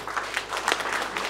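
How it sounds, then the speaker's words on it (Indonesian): Fairly faint applause from guests at a wedding reception, a short patter of hand claps that rises and falls in small bursts. "Tepuk tangan lebih spesial dulu."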